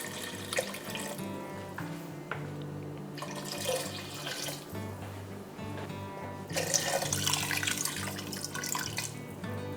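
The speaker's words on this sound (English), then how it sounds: "And then I'm gonna be adding in 3 cups of water." Three cups of water poured into a pot of vegan white chili, a continuous splashing and trickling that swells louder toward the end. No one speaks over it.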